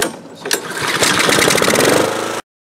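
A Honda small engine with a freshly reassembled carburetor, running on non-ethanol fuel with the choke on, pulls over and catches, then runs with a loud close rapid chugging for about two seconds before cutting off abruptly.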